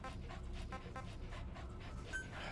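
The dog companion D-Dog in the video game Metal Gear Solid V pants in quick, rhythmic breaths, soft and close, with a faint whimper near the end.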